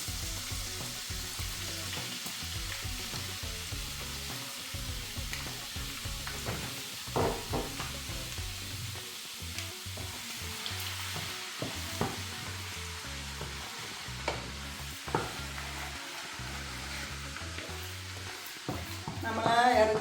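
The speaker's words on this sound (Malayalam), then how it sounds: "ആദ്യമേ ഇഞ്ചി അരിഞ്ഞത് മൂപ്പിക്കും." Chopped ginger fries in hot oil for Kerala-style beef pickle, a steady close sizzle with scattered crackles and occasional stirring clatter over twenty seconds.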